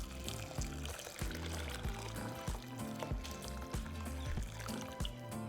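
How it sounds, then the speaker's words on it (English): Four cups of boiling water pour steadily over soaking rice and a broken cinnamon stick for a strawberry horchata, a continuous liquid gush with a rhythmic, pulsing splash running throughout. "we're going to cover it with 4 cups of boiling water"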